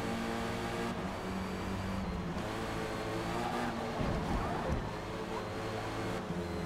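Race cars in the Forza Motorsport video game lapping Silverstone in a dry Corsa Cup race, with engines droning loud and continuous and pitches rising and falling as cars accelerate and pass.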